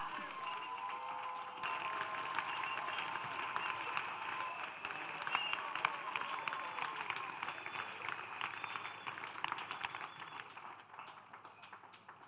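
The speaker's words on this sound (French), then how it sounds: "Acclamation. Clap." A church congregation breaking into sustained applause at a ministry gathering, dense clapping from many hands that swells then slowly thins, with a tonal hum underneath and faint voices in the crowd.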